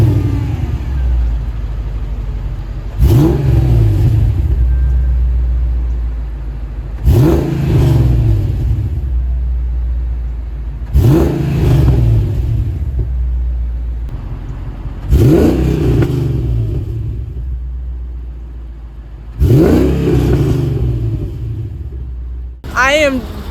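A Mercedes E55 AMG engine with long tube headers, stock resonators and mufflers is revved hard six times at regular intervals, each blip rising to a loud roar, then dropping back to a deep idle.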